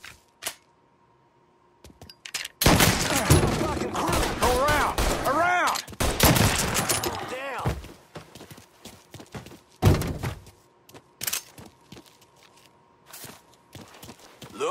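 Gunfire in the video game Mafia III, loud overlapping bursts and sharp shots mixed with game music and chaotic effects, some spaced single reports later on.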